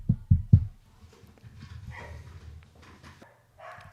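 Several dogs bark three times in quick succession close by, loud and sharp, followed by softer mixed background noise with faint distant voices.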